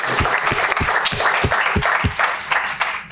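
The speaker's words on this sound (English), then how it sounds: "round of applause for our panelists" Audience applause for the panelists at a supply chain and logistics innovation showcase: dense, sustained clapping from a room of people, loud and steady for the full stretch with no talk over it.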